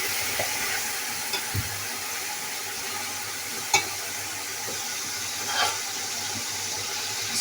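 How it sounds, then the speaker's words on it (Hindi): Potatoes roasting in a pan for aloo pulao give a steady, soft sizzle under light stirring, with a few scrapes and clinks of a utensil against the pan and no talking. "साथ ही हम डाल देते हैं इसमें आलू, इनकी अच्छी से भुनाई कर लेते हैं।"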